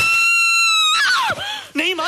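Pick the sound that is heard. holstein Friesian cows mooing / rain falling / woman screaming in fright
woman screaming in fright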